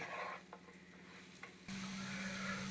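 Raw banana chops are stirred with garam masala in a pan over a soft, continuous sizzle, with faint scraping and a sudden louder hiss toward the end; quiet and close, with no talk.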